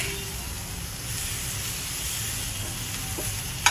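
Prawns tossed into a pan of sautéed masala with red chilli powder, turmeric and salt for prawn pulao, giving off a steady, even broadband sizzle and hiss that holds at one level throughout, with no talk over it.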